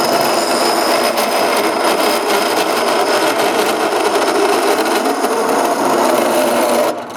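A deburring tool scrapes a burr from the inside of a bar, a steady close grinding rasp lasting several seconds before cutting off abruptly.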